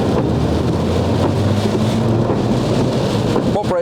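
Heavy rain pours in a dense, continuous roar with a deep thunder rumble underneath, loud and close, and the sound is cut off abruptly near the end.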